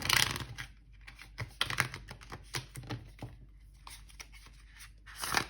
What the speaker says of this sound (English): Oh, that was a messy shuffle.